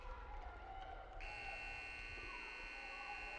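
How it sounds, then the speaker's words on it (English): Loud sustained electronic horn of an end-of-game buzzer sounds in an ice hockey arena, kicking in about a third of the way through and holding steady over crowd and arena noise. "just as the buzzer goes"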